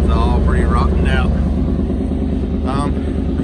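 A 1954 Studebaker Champion gasser idles steadily with a low, rough drone through its rotten, mostly rusted-out exhaust, loud and close, while someone talks briefly over the engine.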